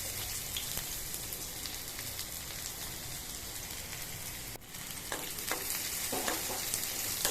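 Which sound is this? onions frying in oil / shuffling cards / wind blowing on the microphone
onions frying in oil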